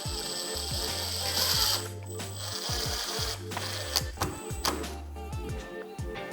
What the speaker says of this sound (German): als nächstes nehmen wir die Clips und schrauben die auch nochmal zu